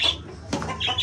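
A brief bird squawk, like a hen's call, rises twice amid close barnyard noise, with a flutter or scuffle in between.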